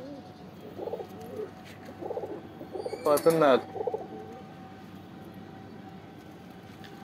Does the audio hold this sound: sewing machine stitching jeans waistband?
no